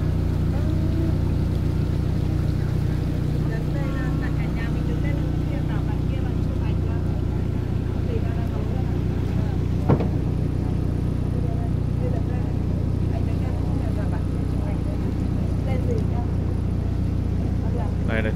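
A cruise boat motors along the Ham Luong River in Ben Tre, its engine droning in a steady low hum throughout, with people talking over it.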